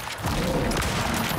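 Rapid gunfire from a weapon shooting an enemy in the survival game Icarus, a dense burst of overlapping shots close and loud, running continuously with no pauses.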